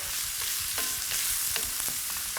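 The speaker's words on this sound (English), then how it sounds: "Love that sizzle. It's a good sounding in the kitchen." Onions sizzle steadily in a hot pan, a bright crackling hiss with scattered pops and a few clinks of stirring, no voices.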